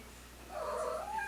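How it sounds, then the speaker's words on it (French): A pet cat meows loudly and close by in a drawn-out, wavering call, heard alone in a quiet indoor room. "Excusez mon chat."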